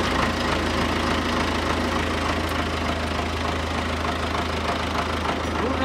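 An MTZ tractor's diesel engine runs at a steady, rumbling idle with a rapid knocking pulse, close and continuous throughout.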